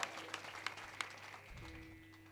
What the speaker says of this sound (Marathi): वाजवा जोरदार सगळे मंडळी.